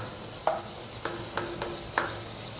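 Garlic, onion and tofu sautéing over low to medium heat, a soft, quiet sizzle under four distinct spatula taps and scrapes spaced about half a second apart, close by.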